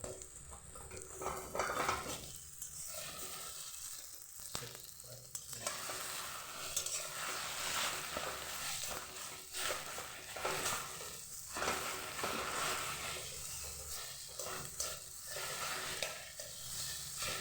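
Egg frying in oil in a pan while being stirred, with a steady broadband sizzle and repeated scraping, clinking stir strokes throughout, close and fairly loud, no voices.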